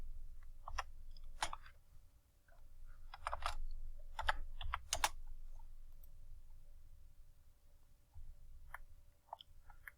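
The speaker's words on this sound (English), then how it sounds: "hit the home button on my keyboard" Computer keys are pressed close by in short irregular bursts of crisp clicks and taps, with pauses between the clusters, over a quiet low room hum.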